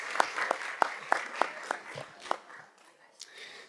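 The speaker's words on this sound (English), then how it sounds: "we can give them a round of applause as well" A small audience at a school board of education meeting gives a short round of applause with scattered distinct claps that thin out, while a voice talks over it.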